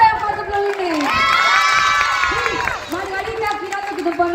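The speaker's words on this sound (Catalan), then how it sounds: "Un fort aplaudiment de aquest campió del primer Gincana" At a school cultural-days gymkhana, a crowd of children cheers and shouts for the first champion, a loud sustained roar with excited high voices and some clapping mixed in.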